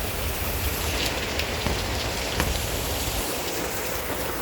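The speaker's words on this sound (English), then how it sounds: "It's raining." Rain falls outdoors in a steady, dense patter and hiss, close and continuous with a few sharper drop hits, and no one speaking.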